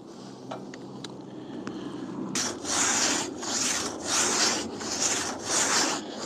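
A hand crosscut saw cutting through a pitchy tree, after some quiet taps, with rhythmic rasping strokes back and forth, about five steady passes, close and fairly loud.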